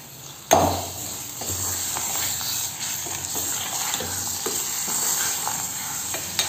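Goat fat frying in a little oil in a pan, a steady close sizzle that starts abruptly as the fat drops in and keeps crackling with light stirring scrapes throughout, no talk.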